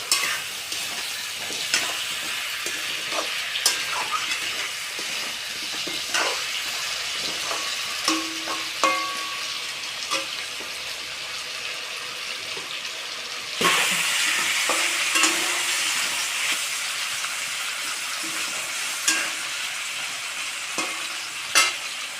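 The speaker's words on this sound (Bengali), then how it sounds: "এখন সবজিটা ভালো করে ভেজে নিতে হবে।" Vegetables with ginger-garlic paste, turmeric and salt frying in a pan for village-style Bengali vegetable khichuri: a continuous close sizzle with scraping stir strokes, growing louder and hissier partway through, no talking.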